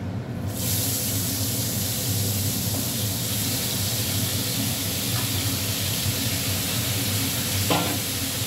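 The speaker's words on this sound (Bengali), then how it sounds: "দেখো, এই যে চিংড়ি মাছগুলো ভেজে নিচ্ছি।" Prawns fry in a pan with a loud, dense, steady sizzle that fills the whole stretch, with a few faint clicks near the end.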